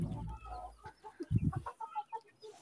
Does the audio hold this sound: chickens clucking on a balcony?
yes